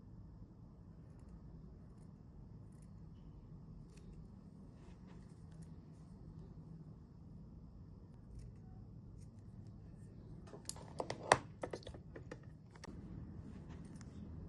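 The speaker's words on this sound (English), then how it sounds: "I think I will trim the seam allowance a little bit smaller." Scissors trim the fabric seam allowance of a fabric rose brooch in a short run of crisp snips and clicks, near and moderately loud, following a stretch of faint low background noise.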